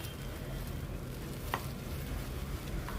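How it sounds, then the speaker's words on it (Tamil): Egg is stirred into sandwich masala stuffing in a hot pan, a steady close-up sizzle with soft scraping strokes and a couple of faint clicks of the spoon, with no talking. "ஒரு 2 எக்கு சேர்த்து இது மாதிரி நம்ம கைவிடாமல் கலந்து விட்டுக்கிட்டே இருக்கலாம்."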